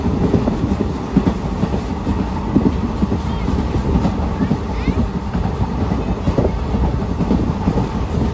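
A new summer special passenger train running from Kolkata to Digha rolls on with a steady, loud rumble and rhythmic clickety-clack of wheels over rail joints, heard continuously from on board with faint voices underneath.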